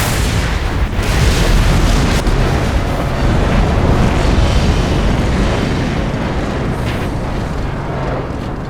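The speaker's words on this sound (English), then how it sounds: "Mad Max includes some of the best looking explosions and fire effects I've ever seen in a video game" Explosions and fire effects from the Mad Max video game on PC: a loud, dense, continuous booming rumble with blasts layered over one another, steady for the whole stretch with no talking.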